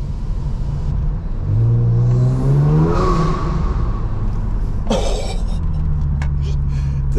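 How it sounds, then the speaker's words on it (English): A Kia Stinger GT engine revs up and rumbles loudly with a throaty exhaust note, the pitch climbing and falling, while people talk faintly nearby. "The exhaust on this thing."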